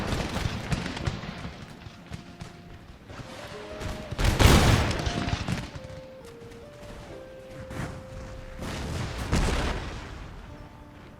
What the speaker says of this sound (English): these Marines are about to fire